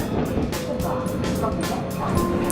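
Steady rumble of a tram in motion, with rattling and broadband rolling noise throughout and faint voices mixed in.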